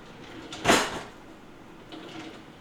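A kitchen drawer slides open and shuts with a sharp close clatter near the middle, followed later by a softer sliding rustle, in a quiet room without talk.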